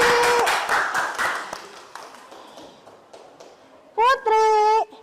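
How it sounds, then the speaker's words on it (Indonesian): Classmates in a classroom give a student a round of quick clapping that fades out over a few seconds, followed by a loud, tonal electronic-sounding chime near the end, with talking at the start. "Beri tepuk tangan untuk Feli"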